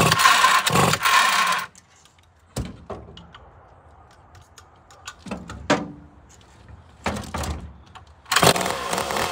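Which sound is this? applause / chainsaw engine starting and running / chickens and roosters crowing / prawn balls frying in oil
chainsaw engine starting and running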